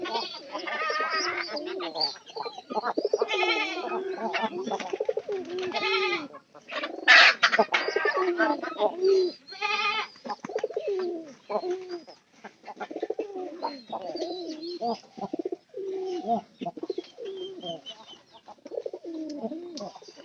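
Pigeons kept in a loft coo in repeated soft, throaty phrases close by, and a voice talks now and then between the calls.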